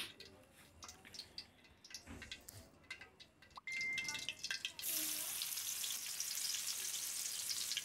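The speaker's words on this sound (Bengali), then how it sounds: "তেলটা গরম করার পর আমি পেঁয়াজ কুচি দিয়ে দেব।" Chopped onion dropped into hot oil while cooking chow mein, a quiet clatter of kitchen sounds followed by a sudden steady sizzle of frying that continues to the end.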